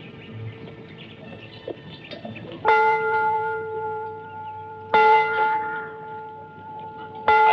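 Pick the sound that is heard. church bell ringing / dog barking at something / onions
church bell ringing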